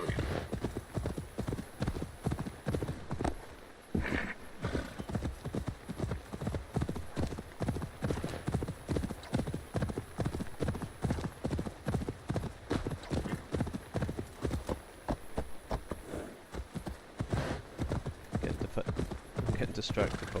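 Horse hooves in Assassin's Creed Wrath of the Druids clip-clop in a steady, rapid trotting rhythm for about twenty seconds, crisp and close, while someone talks over them throughout and a whinny briefly breaks in.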